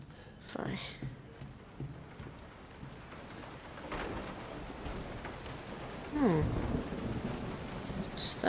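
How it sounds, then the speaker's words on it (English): Thunder in the horror video game Resident Evil 7: low rolling rumbles over steady rain, with faint murmured voices underneath. "It's thundering now."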